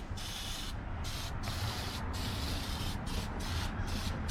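Oven cleaner sprayed onto the grease-covered brakes of a 1948 DeSoto Deluxe Coupe: repeated hissing aerosol bursts broken by short gaps, close and fairly quiet.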